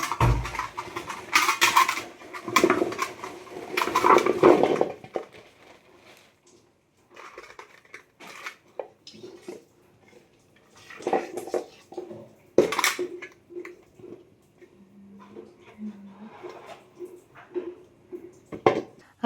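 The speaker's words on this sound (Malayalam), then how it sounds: "അപ്പോൾ എന്തായാലും ഇത് നമുക്ക് നന്നായിട്ട് കഴുകി വൃത്തിയാക്കണം കേട്ടോ." Nutmeg fruits are washed in a pot of water, giving clattering and rattling against the metal vessel, with splashes in several bursts separated by quieter pauses.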